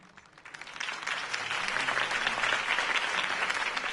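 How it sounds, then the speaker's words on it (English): Sustained applause from a large crowd in the video game Batman: The Telltale Series, following a campaign speech, rising from a lighter start to a steady, dense roar of clapping that fills the whole stretch. "could have heard that applause"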